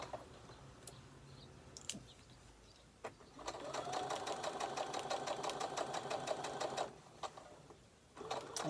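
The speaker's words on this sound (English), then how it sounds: "And then we are going to start sewing." A sewing machine stitching a fabric book sleeve runs in a steady rapid burst for several seconds, preceded and followed by brief clicks and short starts, close and clear.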